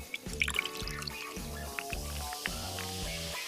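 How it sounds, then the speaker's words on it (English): Soda pours into a laboratory flask, trickling and dribbling in uneven spurts with small drips. The liquid sound is close and moderate, with no talking. "Pour some soda into a laboratory flask."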